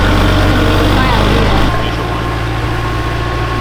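A tractor tram carries people on a winery tour, its engine a loud, steady low idle-like drone that shifts slightly in pitch partway through, with people talking over it.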